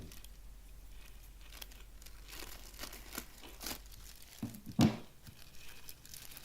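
A FabFitFun mystery bundle's crinkly plastic packaging being handled and torn open, with close, intermittent crackles and rustles and one sharper tearing rip near the end.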